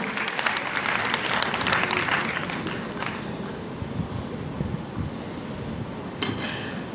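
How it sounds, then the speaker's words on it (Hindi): A crowd at a Delhi MCD plastic-free public spaces event gives the chief guest loud, sustained applause, steady and thick for several seconds before thinning into broad background rumble. "तालियों की गड़गड़ाहट जरा जोरदार।"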